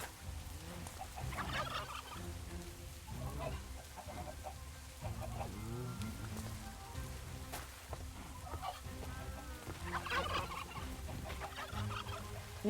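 Minecraft chickens clucking repeatedly in a modded survival game, short game-style bird calls recurring throughout over steady background music or ambience, fairly quiet overall.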